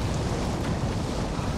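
A video game waterfall in God of War Ragnarok pours with a dense, continuous broadband roar, steady and fairly loud with no break.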